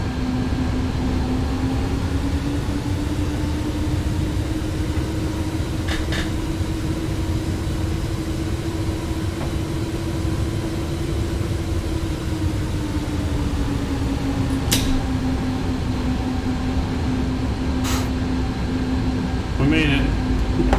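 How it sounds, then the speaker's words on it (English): Antonov An-225 (iniBuilds) rolling out after landing in Microsoft Flight Simulator, thrust reversers engaged: a loud, steady engine roar with a sustained whine that rises slightly and then eases, plus a few faint clicks. "Reversers."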